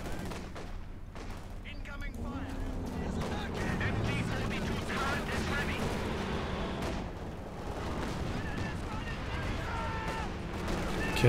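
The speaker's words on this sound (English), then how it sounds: "Okay, Katyusha barrage" A Katyusha rocket barrage in Company of Heroes 2 rumbles as a dense, continuous roll of launches and explosions, steady and loud throughout, with a voice talking over parts of it.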